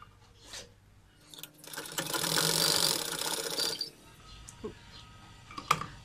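A sewing machine stitches a hidden pocket into a salwar, running in a sustained whirring burst for a couple of seconds between short clicks and handling noises, close up and fairly quiet.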